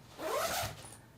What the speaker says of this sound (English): So you can zip those in.